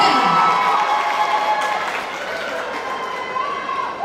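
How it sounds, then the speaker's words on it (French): A school crowd at a high school performance contest in a sports hall applauds a student performer, with dense sustained clapping and cheering throughout and a voice faintly mixed in. "on applaudit cette élève"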